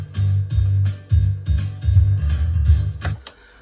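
Pop song played by a DJ, a loud bassy mix with a steady beat and sung melody, in short bursts separated by brief cuts and ending abruptly.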